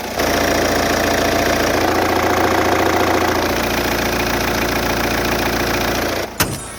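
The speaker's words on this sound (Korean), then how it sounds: "엔진음까지 들어봤습니다." A Volvo S60 engine with about 70,000 km idles steadily, heard up close in the engine bay, with a low, even rumble and a faint rattling texture, ending with a brief thump.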